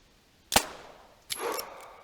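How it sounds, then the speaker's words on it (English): Two sharp reports from an HMR rifle in theHunter Classic, a single crisp crack followed by a second burst with a trailing echo, fairly loud against a quiet outdoor hunting backdrop. "I think we're going to go ahead and shoot it before it gets too close"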